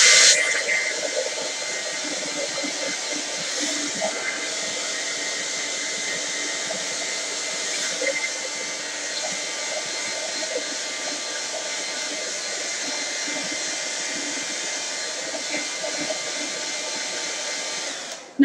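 A hair dryer blows with a steady, loud airy roar and hiss, continuous and close, cutting off at the very end.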